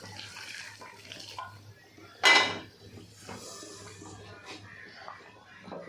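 Hot water poured into a pot of mutton kasha, a short loud splashing gush with some metallic pot clatter, surrounded by quiet kitchen noise.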